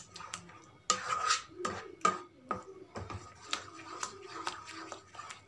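Beetroot halwa being stirred in a pan as it thickens: irregular close scraping and rubbing strokes of a spoon against the pan, with occasional sharper knocks, moderately quiet.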